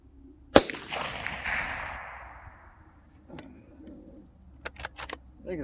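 A Marlin 783 .22 Magnum rifle fires one sharp crack with a short fading tail at an outdoor range, followed by a few faint clicks and knocks.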